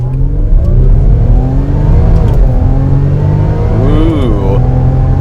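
A 2018 Range Rover Velar P380 accelerates hard toward 60, its engine loud and close and climbing through the revs, with a rising shift tone near the end, all heard from inside the cabin.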